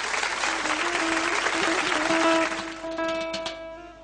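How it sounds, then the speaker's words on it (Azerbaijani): Guests applauding at a wedding, a dense burst of close clapping from a crowd that fades over the last second while sustained music tones hold underneath. "Amma öncə istəyirəm Ulduz xanımı alqışlayasınız"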